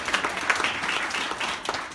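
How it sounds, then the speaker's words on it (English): Scattered applause at a Christmas parade press conference in Nashville, a modest crowd clapping unevenly for about two seconds, moderately close and without talk. "give them a great round of applause"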